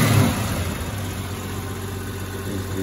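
A Ranger engine fitted with a two-barrel Holley carburettor runs steadily at a low, even idle with a brief blip at the start, close by and continuous with no talking.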